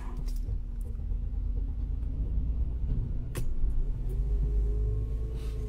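A 2008 Mercedes-Benz ML 350 with a damaged ignition coil, its engine rumbling steadily at idle close by, with a brief sharp click midway.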